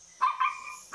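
A dog angrily barks at a small LHKRC toy drone, giving two quick sharp yaps followed by a third after a short pause, fairly faint and with no talking.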